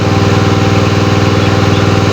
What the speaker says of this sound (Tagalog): maandar pa yung makina